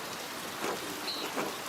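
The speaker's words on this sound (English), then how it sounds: "A little rain never bothered him." Steady rain patters down in the video game Pentiment, a dense even hiss of drops on surfaces with faint rumbles and no voices.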